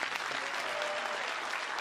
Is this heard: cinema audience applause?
yes